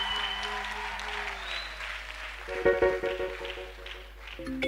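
Applause from a church congregation during a Sunday service, a dense steady clapping that carries on under bright sustained musical tones entering midway.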